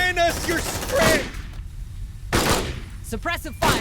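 Enemy gunfire in Aliens Dark Descent: bursts of rapid shots crack loudly between stretches of game noise, with a quieter gap in the middle before more volleys erupt.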